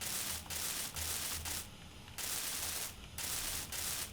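Blocks are being welded in Space Engineers: a harsh, loud hissing buzz that cuts on and off in bursts, with short gaps of quiet hum between them.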